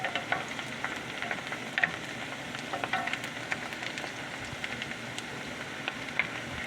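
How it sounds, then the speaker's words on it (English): Rice for gallo pinto shallow frying in oil on high heat, a steady dense sizzle with scattered pops and occasional stirring scrapes, close and continuous with no talking. "We're pretty much just doing almost a shallow fry."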